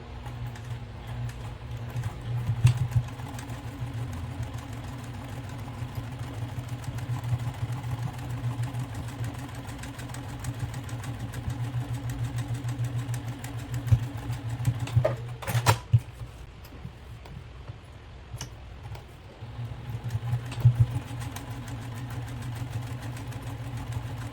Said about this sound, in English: here's the sewing machine. I'm going to start to sew.